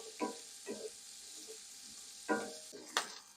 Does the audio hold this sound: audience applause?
no